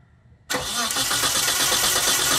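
A car engine on a standalone ECU setup cranks on the starter and catches abruptly after half a second, then runs loud and close with a rough, rapid idle throb.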